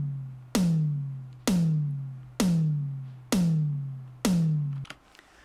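Five evenly spaced booming tom-tom hits from a trance track. Each has a deep resonant body and a decaying tail, recorded up close and played alone.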